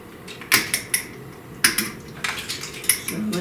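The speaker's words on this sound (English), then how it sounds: "So let me get my 1 teaspoon out here." Metal cutlery clinks as a teaspoon is pulled out in a kitchen while making muffins, a handful of sharp close clatters at irregular intervals with no talk.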